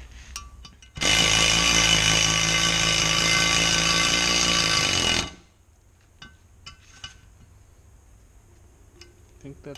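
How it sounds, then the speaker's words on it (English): A power ratchet pulls a valve guide from an Allis Chalmers C engine head, a loud steady mechanical whirring and grinding burst lasting about four seconds, then stopping abruptly, followed by faint clicks and handling noises. "I wonder if the power ratchet's got enough."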